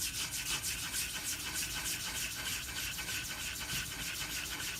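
A hard 4000 grit Ume whetstone is lapped flat, producing a steady, continuous gritty rubbing and scraping with an even back-and-forth texture, close up and fairly quiet, with no talk.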